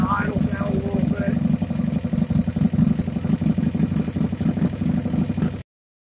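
A Harley-Davidson XL883C Sportster motorcycle engine idles with a steady, lumpy low throb and light rattle after sitting unused, with a leaking carburetor, loud and close before cutting off abruptly.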